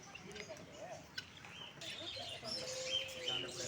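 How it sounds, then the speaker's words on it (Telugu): Many birds chirp and coo at a small bird park in Tirupati, with scattered faint calls at a distance over a low background, and people talk nearby. "చాలా బర్డ్స్ ఉన్నాయి ఫ్రెండ్స్."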